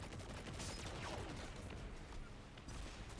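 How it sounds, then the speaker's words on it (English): Machine gun fire from Destiny 2, heard during a Lost Sector boss fight, as a dense continuous rattle of rapid shots layered with game effects, steady and fairly loud throughout. "Just gonna stun him and just do some damage with the machine gun."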